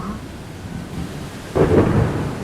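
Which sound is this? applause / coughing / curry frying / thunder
thunder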